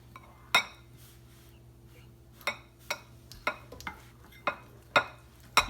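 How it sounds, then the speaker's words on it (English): A rainbow chocolate mixture being stirred in a bowl, with sharp clinks of a utensil against the bowl at irregular intervals over a steady low hum, no talking. "Give it a good mix."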